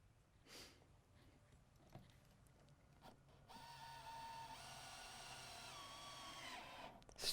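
A power tool drives screws to fasten a dovetail strip in a Festool workshop, a faint rustle first, then a steady whirring motor run that grows louder from the middle on and ends in a sharper burst.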